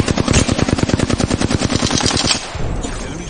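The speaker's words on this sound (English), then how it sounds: "Opening fire on the enemy." Rapid automatic gunfire in Apex Legends, a loud, close, steady stream of shots for over two seconds before cutting off into a fading rumble.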